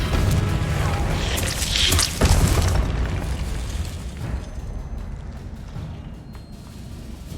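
Confringo spell blast in the PC game Hogwarts Legacy: a broad, rumbling explosion with crackling bursts that peaks early and then rolls away into a fading, noisy tail, loud and with no voices over it.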